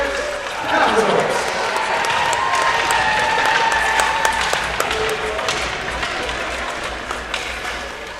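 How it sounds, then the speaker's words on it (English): Applause for the Providence Capitals youth hockey team at a rink trophy ceremony, a broad, steady wash of clapping from a crowd that carries on under an announcer's voice and tapers slightly toward the end. "Let's give a big round of applause for our Providence Capitals."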